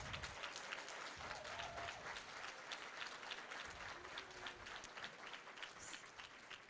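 Steady, sustained applause fills a venue at an awards evening as the crowd claps for standing board members, the clapping dense and even throughout.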